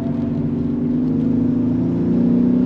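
A 2022 Ford Explorer Timberline SUV with a 10-speed automatic pulls hard under throttle, its engine drone climbing smoothly and steadily from inside the cabin with no talking.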